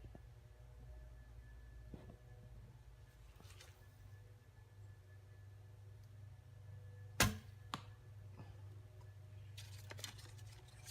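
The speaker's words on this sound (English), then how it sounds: "I'm going to shoot the regular arrow and then the lighted knock again" Wooden arrow loosed from a traditional bow in an Alabama forest: one sharp, close snap of release rising suddenly out of a quiet outdoor background, then a fainter second knock moments later, with scattered light rustles before and after.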